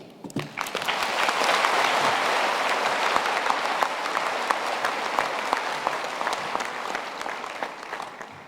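Loud, sustained applause from a big audience at a university graduation ceremony, dense and continuous throughout with individual sharp claps poking through the wash.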